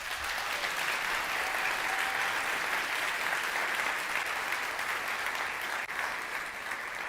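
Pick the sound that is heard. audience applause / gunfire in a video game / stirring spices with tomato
audience applause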